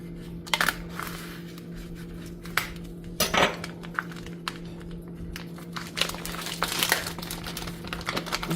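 A knife cuts and tears the paper wrapping off a cooked ham, with irregular crinkling, scraping and rustling bursts over a steady low hum, close and fairly quiet.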